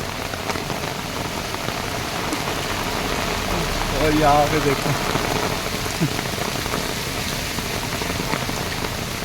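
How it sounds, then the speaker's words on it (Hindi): Heavy rain pours down in Delhi, a dense, loud, steady hiss of drops drumming on surfaces throughout, with someone speaking briefly over it midway. "जोर से बारिश आ रहा है, बहुत तेज हो रहा है"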